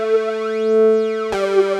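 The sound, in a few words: phaser effect with high feedback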